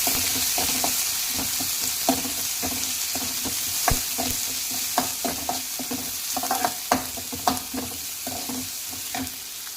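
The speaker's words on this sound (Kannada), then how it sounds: "ಈಗ ಇದಕ್ಕೆ ಹೆಚ್ಚಿಟ್ಟಿರುವಂಥ ಈರುಳ್ಳಿ ಹಾಕೊಳ್ಳಿ ಈಗ ಫ್ರೈ ಮಾಡಿ" Chopped onions fry in a pan with a soft constant sizzle, broken by sharp, irregular clicks and scrapes of a spoon stirring against the pan.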